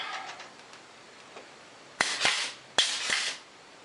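A grease gun pumps grease into the swing arm bushings of a Polaris 400L ATV in a workshop: two close, sharp mechanical strokes, each a clack followed by a short hissing squirt, after a quiet stretch.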